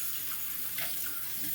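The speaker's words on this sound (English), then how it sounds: "I'm going to rinse this off, see if there's any soap left." Steady running tap water rinsing out an empty Stirling soap tub, a constant close hiss with light splashing, brief and without voices.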